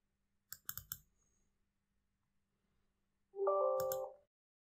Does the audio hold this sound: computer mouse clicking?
yes